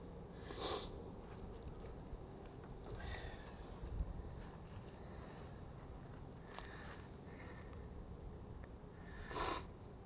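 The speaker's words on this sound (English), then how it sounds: "It's really windy today" Gusty wind blowing outdoors around a small tent stake camp stove, a steady low rumble of wind buffeting the microphone with brief stronger gusts near the start and end, no talking.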